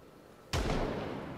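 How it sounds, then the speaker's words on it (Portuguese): A single gunshot fired nearby in the zombie survival game Project Zomboid, a sudden loud boom with a rumbling decay after a quiet background. "Eita, deram um tiro aqui perto, não sei aonde."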